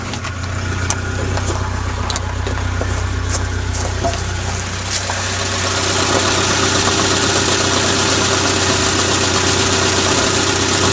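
A 1984 Nissan 200SX engine idles steadily after start-up, a loud, close, continuous low rumble with slight roughness and no talking.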